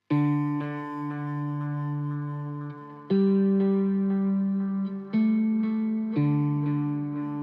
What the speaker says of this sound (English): So I've now got an air delay